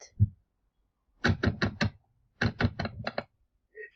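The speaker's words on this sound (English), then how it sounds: "your clicking is actually really loud" Clusters of sharp, fast clicks on a laptop come in two quick bursts of four or five, loud and close, with a soft thump at the start.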